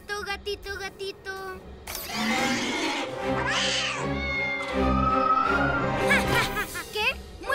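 A cartoon cat in a Spanish-dubbed PJ Masks episode meows and yowls loudly in several drawn-out, wavering cries, preceded by a few short clicks and sharp sounds.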